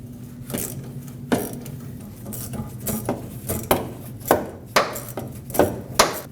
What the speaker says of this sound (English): Use a 10mm socket and loosen up this clamp